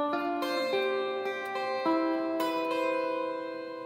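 Guitar with a capo playing the opening of a song, clean plucked notes and ringing chords struck one after another, close and alone, with no talk.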